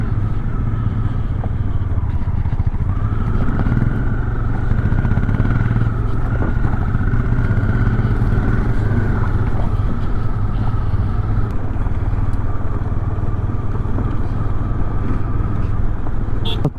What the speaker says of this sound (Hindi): इस पत्थरों पे बाइक चला चला के।